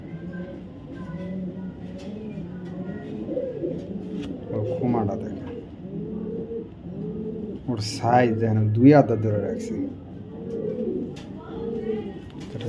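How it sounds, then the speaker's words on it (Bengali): A male Super BD pigeon coos in a low, throaty rhythm close by, with someone talking over it through much of the stretch. "খুবই পছন্দের একটা নর কবুতর"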